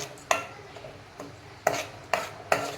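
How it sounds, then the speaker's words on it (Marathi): Onion and tomato puree being sautéed in a pan for a crab masala, with a few distinct spoon scrapes and clanks against the pan over a low background hiss, close and fairly loud, no voices. "दोन मिनटे ही प्युरी आपण चांगल्या प्रकारे परतून घेऊ"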